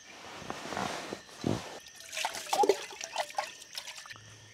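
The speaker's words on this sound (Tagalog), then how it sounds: "Banlawan ko rin pala ito." Water splashing and trickling as something is rinsed, likely at an outdoor camp setting in Dolores, Quezon, with uneven bursts of pouring and dripping close by and no talk.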